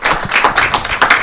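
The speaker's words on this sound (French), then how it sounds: "on peut à nouveau applaudir Hélène" Applause for a speaker, Hélène, at a French talk on children's multilingualism: a short, loud run of close, distinct hand claps from a small audience.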